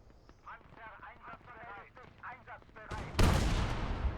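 AI-controlled soldiers open fire in the World War II game Gates of Hell: Ostfront. Someone talks over quieter game sounds, then a sudden loud burst of gunfire erupts near the end.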